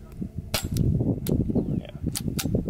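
A .45 pistol fired through a suppressor, a few sharp, muffled cracks close by with a steady low rumble of outdoor range noise, no one speaking.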